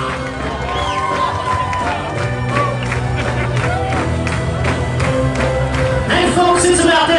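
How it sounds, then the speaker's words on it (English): Wedding guests clap and cheer loudly as the bride's family is called down, a dense, steady crowd roar with shouts and music running throughout. "let's keep those hands clapping real loud"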